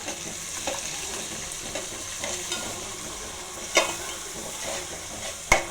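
Onions browning in a pan and stirred now and then, a continuous close sizzle with occasional spatula scrapes and two louder knocks against the pan, no talk.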